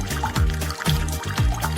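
Juice trickles from a tap into a cup in a kitchen cooking setup, a steady close pour with gurgling, rising fill tones repeating across the moment.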